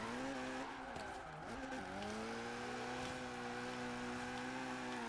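A Talbot Sunbeam Lotus hatchback with an inline-four engine drifts in a Forza racing game, its engine droning steadily at high revs with rising and falling pitch and a continuous tire squeal.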